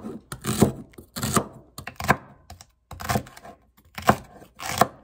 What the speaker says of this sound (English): I just want to make sure that I have this celery chopped up nice and fine.